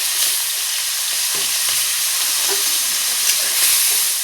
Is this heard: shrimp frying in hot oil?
yes